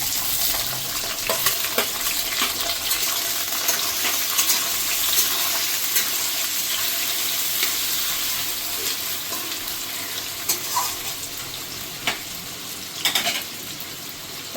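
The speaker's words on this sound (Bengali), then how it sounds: "এবার আমি দিয়ে দেবো এখানে পেঁয়াজটা।" Onion dropped into hot whole spices frying in oil in a pan while cooking a Gondhoraj chicken curry, a steady hiss and crackle of sizzling with small scattered pops and stirring clicks, no talk.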